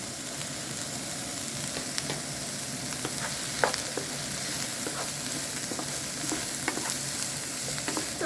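Diced garlic frying in a pan for a chicken and vegetable stir fry, a steady close sizzle with scattered crackles and occasional scraping stirs throughout.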